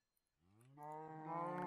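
A cow moos in the Minecraft mod Agrarian Skies: one long, rising bovine call that swells from quiet to loud and holds steady to the end, with no talk over it.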